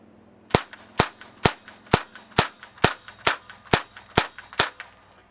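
A Mini Uzi air pistol fired from the shoulder, its bolt cycling back with each shot, gives eleven sharp, evenly spaced cracks about half a second apart, close and clear with no talk.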